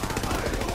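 Rapid in-game gunfire from a favored gun in Borderlands 3, a dense, steady stream of shots filling a brief burst with faint talk mixed underneath.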